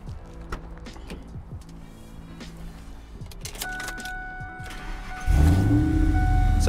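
A 2003 Ford Lightning SVT pickup's engine cranks and fires, settling into a loud, deep idle through its mellow exhaust after a few seconds of quieter clicks and rattles beforehand, recorded close with no talking.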